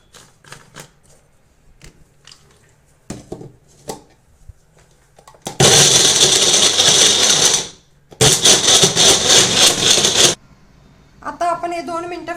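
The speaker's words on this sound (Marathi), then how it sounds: "आता हे सर्व मिश्रण आपण मिक्सर मधनं ब्लेंड करून घेऊया" Kitchen mixer blending a banana smoothie made with dates and no sugar, giving two loud, dense whirring bursts of about two seconds each, separated by a short pause, with speech before and after.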